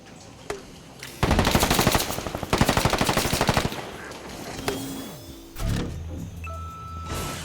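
Rapid bursts of automatic gunfire in a shooter video game, two long dense volleys followed by scattered single shots and mechanical clanks, loud and close.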